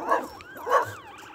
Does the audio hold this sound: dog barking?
yes